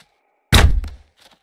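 A single sharp, heavy rifle report from a long-range shot at a wild boar in a hunting video game, sudden and loud, followed by a quick echo and a faint trailing tail.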